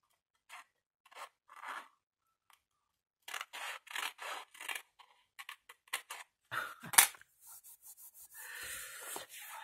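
Scissors snip through kraft paper for a mini album pocket, a run of short crisp cuts in irregular bursts, fairly close and quiet, with a longer rustling cut of paper near the end.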